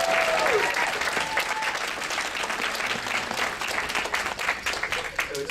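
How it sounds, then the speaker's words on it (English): An audience applauds convention organizers, loud sustained clapping from a large crowd filling the room with no pauses. "Let's give them a round of applause."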